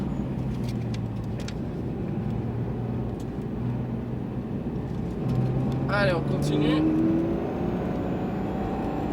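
Porsche 991 GT3 RS engine heard from inside the car on a track, a steady droning note that climbs and swells as it accelerates, with someone talking over it.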